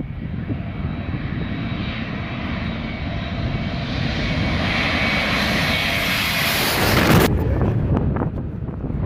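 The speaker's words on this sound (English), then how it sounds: "This Airbus A321neo came in unusually low, almost hitting spectators while landing in Skiathos," An Airbus A321neo jet roars low overhead while landing at Skiathos, Greece, its loud engine noise swelling steadily with wind buffeting the microphone, then a sharp surge as it passes directly over spectators.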